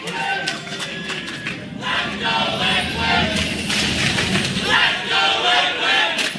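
Esports arena crowd at a League of Legends NA LCS match between Cloud9 and Team Liquid, cheering for Team Liquid: a loud, sustained roar of many voices swelling and dipping throughout.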